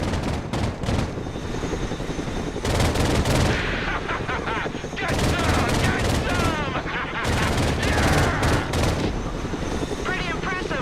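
Rapid gunfire crackles in the video game Broken Arrow, with repeated bursts of automatic shots in several volleys and a steady mechanical drone beneath.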